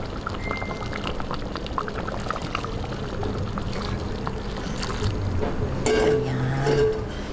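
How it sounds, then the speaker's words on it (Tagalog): Hot water poured into a pot of thick chicken rice porridge (arroz caldo) as it cooks, a continuous pouring splash that swells louder near the end. "Babantuan po natin po ng water."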